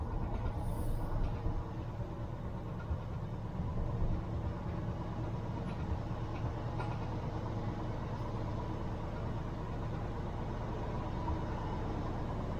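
A cold Jeep CJ-7 engine runs at high idle on its choke, a steady, continuous low rumble that holds evenly throughout with no talking.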